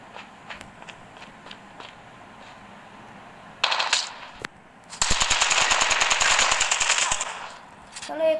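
Automatic gunfire in a Call of Duty battle royale match: sparse single shots early, then a loud sustained burst of rapid fire lasting about three seconds, with another short burst at the end.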